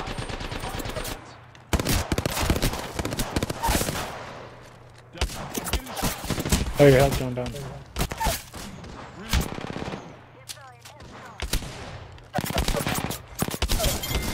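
Bursts of automatic gunfire in Apex Legends, loud rapid rattling volleys repeating across the fight with brief pauses, while players talk over the shooting.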